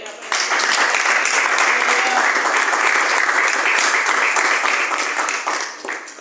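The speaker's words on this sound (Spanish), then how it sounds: "Denle un aplauso a Cristo." A church congregation applauds for several seconds, a thick, even wash of many hands clapping close and loud that fades slightly toward the end.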